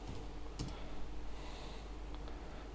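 Computer keyboard typing while entering a command in AutoCAD, a few soft clicks and taps at moderate distance over steady background hiss.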